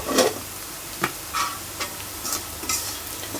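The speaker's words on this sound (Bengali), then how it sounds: "এখন তাড়াতাড়ি করে ভাত ভাজি। সাইফানের বাবার এমনি তো তেলে ভাজা জিনিস খাইতে চায় না, তাও অল্প তেল দিলাম" Cooked rice fries in a small amount of oil while a spatula stirs it, a soft continuous sizzle broken by several scraping strokes, with no talk.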